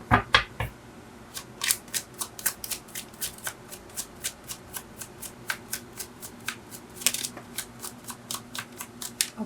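Tarot cards being shuffled in quick crisp bursts, a rapid riffling clatter repeated many times in an uneven rhythm, close and distinct with no talking.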